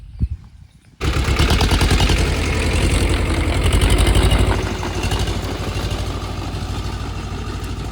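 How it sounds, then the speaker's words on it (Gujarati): A tractor with a rotary tiller runs in a farm field, its engine kicking in loud and close after a second of near silence, then a steady heavy chugging drone with a rapid mechanical rattle that eases slightly toward the end. "રોટરી ચાલુ છે પપ્પા ઉભા રહ્યા છે પેલી સાઈડ ટ્રેક્ટર ચાલુ છે"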